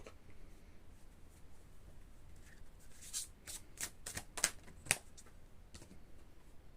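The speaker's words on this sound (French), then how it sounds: "je prends une carte de l'oracle des énergies lumineuses" Oracle cards of light energies being shuffled by hand, a faint rustle that turns into a quick run of soft riffling flicks near the close, heard alone with no talking.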